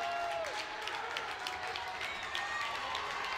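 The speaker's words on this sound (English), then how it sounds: "You hear the ping of the pipe and the roar of the crowd" A crowd roars at a boys high school hockey game between Tartan and Chisago Lakes after a go-ahead goal, a broad steady wash of cheering and clapping with whistles, heard from a distance under a voice.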